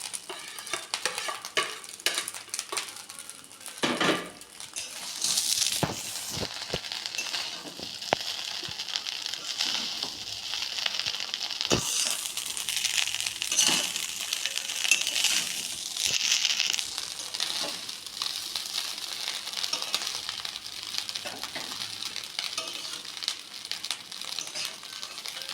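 Vegetables tossed into a hot frying pan for fried rice, a loud steady sizzle and crackle that swells and holds, with scattered stirring scrapes and clatters, close by.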